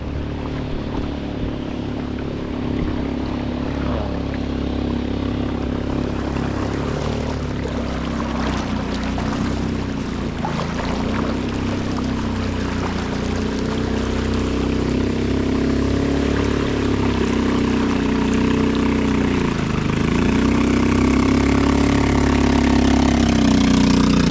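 A boat engine running on a river below a new dam in Montalban, Rizal, a steady droning motor hum that stays close and continuous for the whole stretch, with slight shifts in pitch and rushing water underneath.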